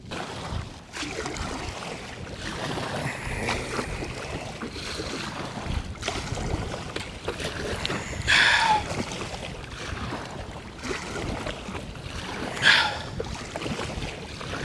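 An NRS Kuda 106 inflatable fishing kayak paddled in heavy wind on open water, with steady wind buffeting and rumble, soft water sloshing and occasional paddle splashes.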